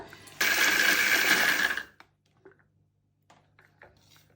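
A small electric grinder whirs loudly for about a second and a half while grinding dried banana peels and eggshells for a homemade plant fertiliser, then cuts off, leaving a few faint taps and rattles in the quiet.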